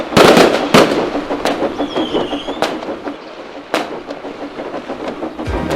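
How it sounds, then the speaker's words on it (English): Fireworks bang and crackle in sharp bursts, with several loud pops and a whistling rocket rising between them, echoing outdoors. "Let's watch the fireworks outside our shed."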